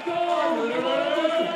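Crowd cheering and hollering at the Extreme Barcelona 2023 World Skate Scootering Pro Tour men's street final, a dense, steady roar of many voices with shouts rising out of it, loud and sustained throughout.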